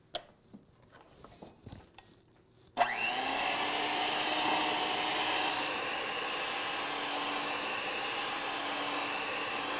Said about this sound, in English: on low speed with our hand mixer, we're just going to blend it until the fudge thickens up a little and loses its gleam.